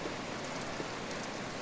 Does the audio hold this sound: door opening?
no